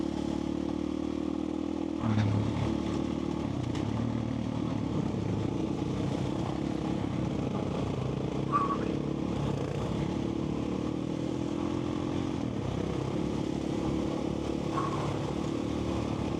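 A Husqvarna FE501 dirt bike engine drones steadily during a desert training ride, a continuous throaty hum with slight rises and dips and a few faint rattles, and no voices.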